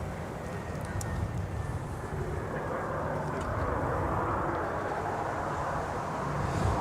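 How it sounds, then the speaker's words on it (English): Airbus A330neo jet with Rolls-Royce Trent 7000 engines heard at an airport, a steady broadband engine roar that stays even and fairly distant throughout, with faint background noise and no clear talk. "the 330 Neos, I could say the same thing too, Nick. Yeah. With the Trent 7000 engines"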